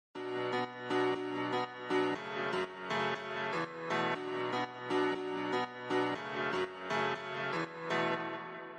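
Piano riff in a minor chord progression, in the style of house music, with chords struck in a steady repeating rhythm, each stab clear and sustained, playing alone without voices.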